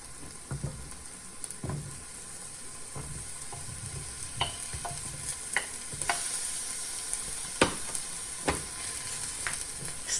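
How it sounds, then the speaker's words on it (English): Mushrooms stir-fry in hot oil with a continuous hiss as a spatula taps and scrapes the pan in scattered sharp strokes, close up and with no talking. "Stir fry again."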